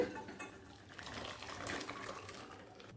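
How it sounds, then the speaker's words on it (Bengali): Spice tempering in oil and ghee is poured from one pot into another pot of dal, making a faint, soft liquid splash and trickle with light clinks. "ফোড়নটা অন্য পাত্রে ঢেলে দিচ্ছি"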